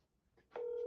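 A single telephone dialing tone starts abruptly and holds steadily as a number is keyed, clear and close but brief.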